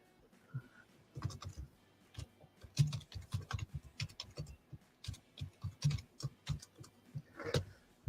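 Bursts of computer keyboard typing, close and moderately loud, come in irregular clusters of quick keystrokes with short pauses, with no talking over them.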